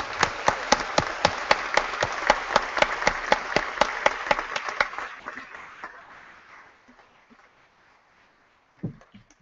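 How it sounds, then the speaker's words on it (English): An audience at a university convocation ceremony for doctoral scholars claps in a steady, moderately loud round of applause that gradually thins and fades out over several seconds, ending in near silence with one last faint sound. "Please join me in applauding all of these doctoral scholars."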